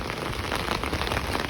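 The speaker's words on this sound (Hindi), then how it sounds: "बहुत ज़्यादा बारिश हो रही है, शाम से ही पूरे में बारिश ही बारिश है।" Heavy rain pours steadily during a cloudburst in Dehradun, a dense, loud, continuous hiss of drops on surfaces with no let-up and no voices.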